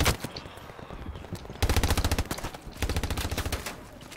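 Machine gun fire in the World War II shooter Hell Let Loose, two loud rapid bursts of automatic shots near at hand, preceded by scattered quieter gunfire.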